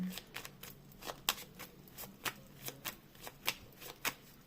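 Tarot cards are shuffled by hand, close and quiet, in a series of about a dozen quick riffling bursts at an irregular rhythm, with no voices.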